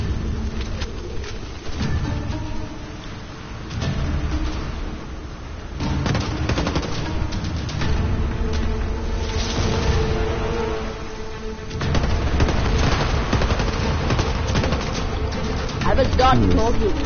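Gunfire in the first-person shooter Warface during a mission to capture a missile base in North Africa, with repeated bursts and shots layered over game music and effects while players talk throughout.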